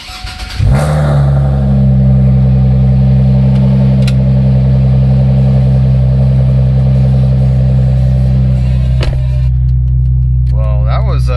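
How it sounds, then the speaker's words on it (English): A car engine cranks and catches after new ignition coils and injectors are fitted, then settles into a loud, steady idle rumble close by, with a brief clatter and a faint tonal whine near the end. "so let's go ahead and start it."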